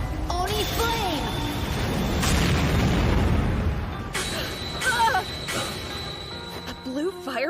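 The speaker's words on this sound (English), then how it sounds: "A blue fireball? How's it so strong?" A blue magic fireball explodes in an English-dubbed anime battle, a loud sustained roaring blast that swells and then fades, followed by sharp crackles and a brief voice.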